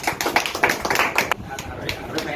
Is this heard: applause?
yes